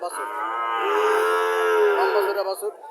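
A Sahiwal calf at a village cattle market gives one long, loud, close moo lasting a couple of seconds, with faint market noise around it.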